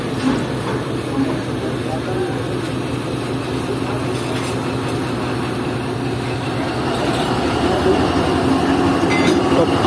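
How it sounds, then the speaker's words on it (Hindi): 2000 horsepower diesel locomotive hauling the Jaffer Express in Pakistan, a steady close rumble of engine and rolling carriages with faint rail clatter, as someone speaks over it. "2000 हॉर्स पावर का लोकोमोटिव है।"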